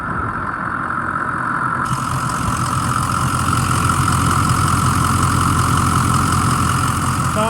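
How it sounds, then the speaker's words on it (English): A 2006 Ford E-450 Blue Bird Handy Bus engine idles steadily and close by, a continuous low rumble that holds even throughout, with no talking over it. "the motor, once it started, it sounds really nice. Listen to it."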